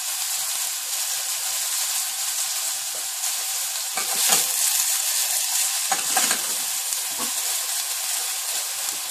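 Chopped onion with a pinch of salt sizzles steadily in a hot pan for a Castilian soup, a constant frying hiss with a few louder bursts of crackle, near and alone.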